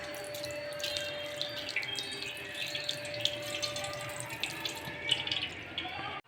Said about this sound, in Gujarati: જો બની ગયું છે ને હવે આ ઠંડા પાણીથી ધોઈ નાખવાનું.